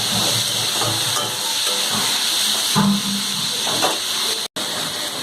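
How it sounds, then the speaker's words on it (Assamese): Tomatoes fry in a pan with turmeric and salt for a paneer curry, a steady close hiss of sizzling that continues evenly, broken only by a brief dropout near the end. "অকণমান বিলাহীখিনি সিজালৈকে ফ্ৰাই কৰিম"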